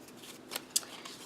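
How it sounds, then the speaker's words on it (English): A deck of playing cards handled close by in a quiet room, giving a couple of faint, brief papery snaps and riffles. "Let me grab a deck of cards here."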